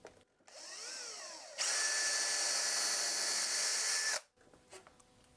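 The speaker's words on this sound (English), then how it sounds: "Now I take my drill bit, drill it in perpendicular." A power drill bores a hole into an old wooden stool: a short whining run that rises and falls, a pause, then a louder, steady high-pitched grind for about two and a half seconds before it cuts off and a few light taps follow.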